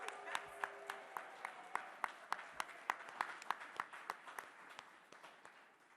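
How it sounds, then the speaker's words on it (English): Artists receive applause at a visual arts prize reception, heard as a quiet, steady run of evenly spaced hand claps that gradually fades. "can we actually just actually cheer for these artists?"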